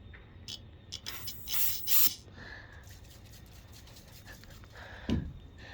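Carburetor cleaner is sprayed onto the carburetor of a Huskee tiller in cold weather, with several short close hissing bursts, two longer blasts early, then quieter rustling and a soft thump.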